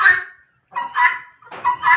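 Guinea fowl calling loudly up close, three harsh honking bursts in quick succession with short gaps, no talk.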